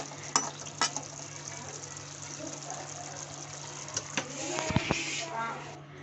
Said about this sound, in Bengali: এখন আমি দিয়ে দিচ্ছি ভেজে রাখা মাছগুলো।